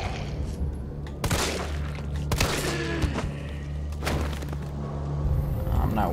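Several loud gunshots ring out in the video game Resident Evil 3 Remake, sharp booming reports spaced about a second apart over a constant low droning background, with no talking over them.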